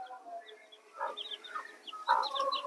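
Chickens cluck and call nearby in short, uneven bursts, the voice of a black-feathered Karunkozhi rooster among them, louder toward the end.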